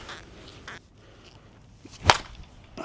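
A Miken HB12 Icy slowpitch softball bat hits a ball on the sweet spot with a single sharp, loud crack that rings briefly, near and alone over faint background noise.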